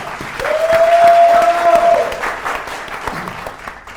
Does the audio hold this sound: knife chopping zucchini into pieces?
no